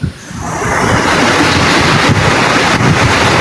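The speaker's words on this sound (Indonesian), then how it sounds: "Angin kayaknya itu." Wind buffets the microphone in a loud, continuous roar of broadband rumble, steady throughout with no voices.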